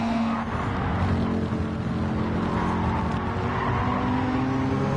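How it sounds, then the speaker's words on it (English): Racing cars in a PS4 video game, including an AMG and a Genesis, roar continuously with engine drone and tire noise, loud and steady with no talk. "Pickle in the AMG and the Inky in the Genesis"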